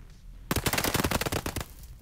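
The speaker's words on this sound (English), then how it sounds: "So I started taking these shots" Rapid automatic gunfire from a video game bursts out loud and close in a fast, even rattle of about a second, with quiet before and after.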